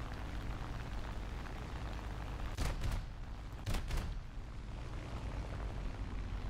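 A plane's 37mm cannon in War Thunder fires two short, heavy bursts a second apart, booming over a constant loud roar of engine and wind during an aerial dogfight.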